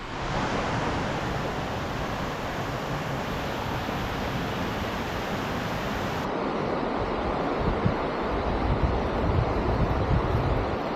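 Water runs and drips off rock edges at Cherokee Falls along a canyon rock face in Cloudland Canyon, Georgia, a steady dense rushing wash that holds constant and close with no voices.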